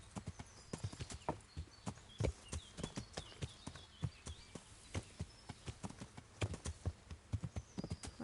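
Rapid hoofbeats of a galloping horse in the video game Kingdom Come: Deliverance pound steadily and close, a quick rolling clatter that keeps going with almost no pause.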